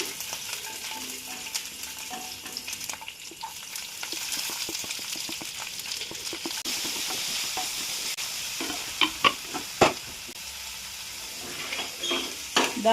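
Oil sizzles and hisses steadily in a frying pan during home pizza making, with occasional sharper crackles and scraping stirs rising above the continuous fry.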